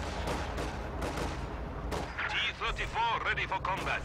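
Tank destroyer cannon fire against a Flak Panzer in the Company of Heroes 2 World War II strategy game, loud booming shots and explosions crashing over a battle din, with voices and combat chatter mixed in.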